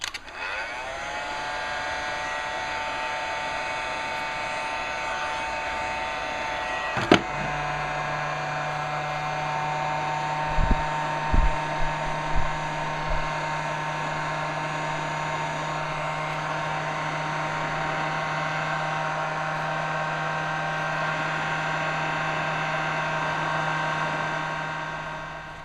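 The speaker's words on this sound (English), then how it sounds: "I'm going to go at it here with my heat gun. It's going to take a minute. I'm just going to turn it up on high" A heat gun set on high softens a part of a Delta 22-540 planer, giving a steady, loud, continuous blowing whir with a motor whine. It runs throughout, with a click and a few brief knocks partway through.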